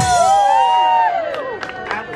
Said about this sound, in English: When you hear this sound, all you have to do is applaud, scream, holler, and cheer.